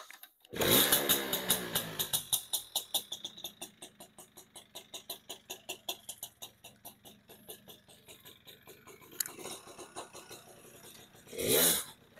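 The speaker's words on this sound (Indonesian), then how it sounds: "Enak tarikannya ini. Mesinnya enak, tarikan mantep." An old Suzuki Bravo motorcycle engine runs close by during a test ride, a rapid pulsing putter that revs up sharply at the start and again near the end.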